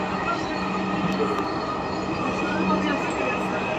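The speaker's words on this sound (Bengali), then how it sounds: "আমরা টস খেয়ে সেকেন্ড ট্রেনে আসলাম।" Dhaka metro rail train running, with a steady, loud rumble and hum of the carriage in motion and a faint tonal whine, heard from inside with people talking quietly under it.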